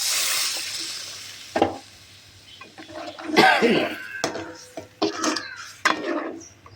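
Stirring cowpea curry in a pan after adding water, a wet sizzle with a few sharp scraping and clinking strokes spaced out over several seconds, close by, with no talking.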